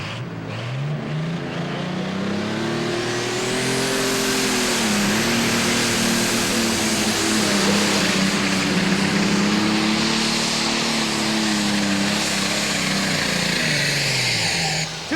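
A John Deere 4020 Pro Stock pulling tractor on a 466 cubic inch block with a single turbocharger, rated near 1,500 horsepower, roars through a pull. The engine note rises, holds a loud sustained howl, sags and climbs again across fifteen seconds.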